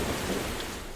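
Heavy rain pours in a dense, steady roar with a low rumble of thunder beneath it, loud and continuous for a brief moment with no voices.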